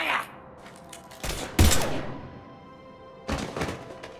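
Gunfire in the Mass Effect 3 video game, a few heavy booming shots and thuds in separate bursts, with speech in the background.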